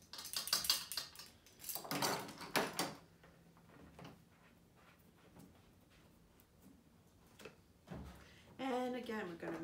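Play-dough ingredients stirred in a bowl with vegetable oil, a utensil scraping and clinking against the bowl in bursts, with a voice speaking between and over the mixing.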